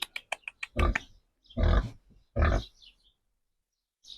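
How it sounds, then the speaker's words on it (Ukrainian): A small piglet grunts and oinks up close, a quick run of short snorts followed by three longer, louder grunts, then silence with a faint final sound. "Оце таке поросятко маленьке."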